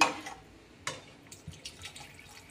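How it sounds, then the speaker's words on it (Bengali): Water poured into a pan of fried ingredients for a thin Bengali rosha curry, heard as a few short splashes and trickles, fairly quiet, with no talk over it. "তো এই দেখো পরিমাণ মতো জল দিয়ে দিলাম।"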